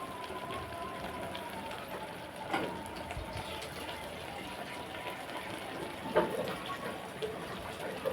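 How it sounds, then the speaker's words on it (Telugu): Water poured into a pot of farm chicken curry: a soft, running splash and trickle with a couple of clunks, fairly quiet over a steady background hum. "వాటర్ వేసుకుందాం."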